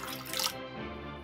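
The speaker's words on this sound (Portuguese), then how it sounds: "vou colocar 250 gramas de água" Water, 250 grams of it, is poured into a Thermomix (Bimby) jar on its built-in scale, a soft continuous splashing pour that trails off into a quieter fill.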